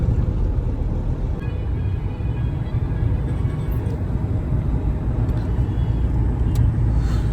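A Mahindra XUV500 cruising on the Yamuna Expressway while overtaking a Toyota Fortuner: constant loud low road rumble and engine drone from inside the cabin, steady with no breaks or voices.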